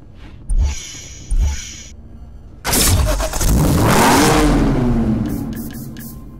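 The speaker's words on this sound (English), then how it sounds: "Powered by Jaguar's 5-liter supercharged V8 engine, it is the finest expression of XK power and performance." A Jaguar XKR's 5-liter supercharged V8 in Need for Speed Hot Pursuit gives two short blips, then roars loudly into a sustained rising rev that climbs and holds near the end.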